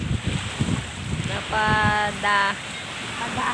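Shore ambience at the seaside in Tanza, Cavite: waves wash in under gusty wind noise, with a few short tonal hums midway.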